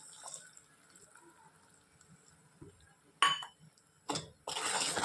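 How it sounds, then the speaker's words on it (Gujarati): Colored milk being poured into sugar syrup, a few short splashy pours and clinks in a quiet kitchen, with a longer steady pour at the end. "આપણે આમાં જે આ કલર અને દૂધ રાખ્યું હતું એ આપણે એડ કરી દઈશું"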